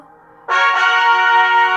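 A bright, sustained electronic chime from the Duolingo app marks a finished lesson, swelling in suddenly and holding for over a second, rich and layered, with a quiet low hum beneath before it starts.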